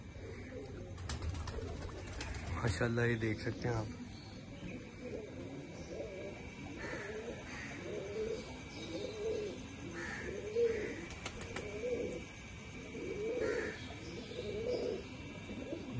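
Pigeons in Lahore coo softly in repeated low, rolling calls close by, with a brief spoken remark and some fluttering near the start.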